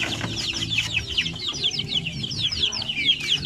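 Young chicks on a farm raised without an incubator give a dense chorus of high, falling peeps over softer low clucks, close by and continuous.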